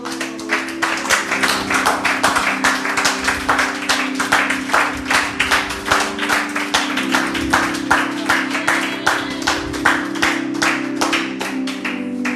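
A church congregation claps in fast, steady rhythmic unison to acclaim the Lord, loud and continuous, with an organ or keyboard chord sustained underneath.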